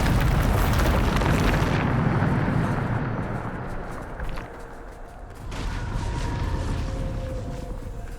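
A Bombarda spell explosion in Hogwarts Legacy makes a loud, sustained roaring blast. The rumble thins and tails off, then a second swell of debris noise follows.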